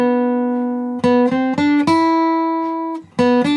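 Guitar plays the short solo from a song, a clear close run of plucked notes with sustained ringing tones and a few quick repeated attacks, with no talking.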